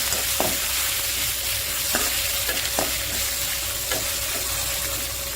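Asafoetida fries in coconut oil for coconut rice, giving a steady crackling sizzle from a nearby pan, with a few distinct scrapes and taps of a spoon stirring, and no voices.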